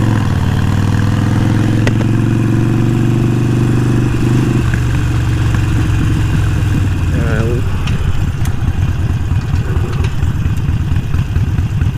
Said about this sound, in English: that was me and my Sportster here named Roxy sliding through an intersection